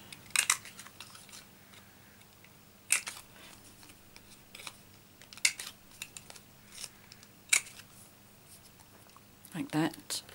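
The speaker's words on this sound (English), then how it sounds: "I rounded the corners using my Project Life corner rounder" A Project Life corner rounder punches the corners of paper cardstock, giving about five sharp, crisp clicks spaced a couple of seconds apart over a quiet room hum, with a fuller thunk near the end.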